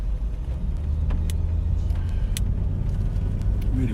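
A Jaguar XK 5.0 Portfolio coupe drives along with a steady, low engine rumble and road noise heard from inside the cabin, smooth and even throughout.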